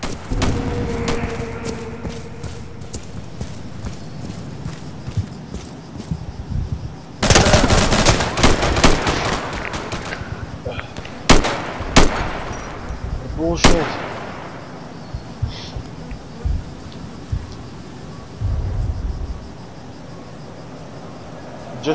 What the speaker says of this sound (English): It's an RPK down the other way.